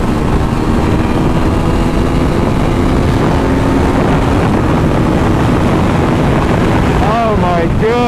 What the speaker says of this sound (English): the wind could be worse